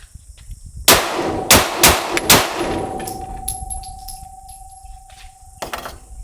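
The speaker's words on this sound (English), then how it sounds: "Show that it will cycle it through there." A compact Glock 26 subcompact pistol being hand-cycled with a 10-round magazine: a series of sharp metallic clacks and snaps, loud and close, spaced in a quick irregular rhythm, followed by a lingering ring and one more click.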